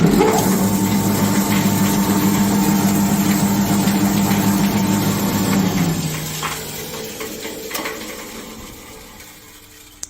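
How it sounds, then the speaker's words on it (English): A large cable granulator's main electric motor hums loudly and steadily with a droning mechanical tone, then begins winding down and fading after several seconds. "that's a substantial electric motor"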